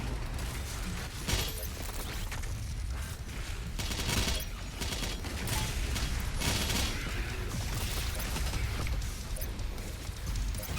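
The BFG 10,000 in Doom Eternal fires amid game combat, giving a dense run of booming blasts and crackling bursts with several sharp hits spread across a steady, noisy battle bed, and no one speaking.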